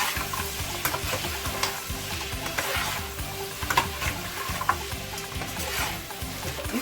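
Stewed goat meat fries in a pot while being stirred, with a steady sizzle and repeated scraping and clinking of the spoon; the sound is close and continuous, with no talking.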